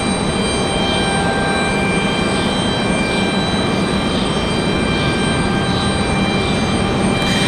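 Delta airliner from Atlanta at Raleigh-Durham International Airport, a steady loud jet engine drone with a sustained whine and faint pulsing tones, constant throughout with no talk.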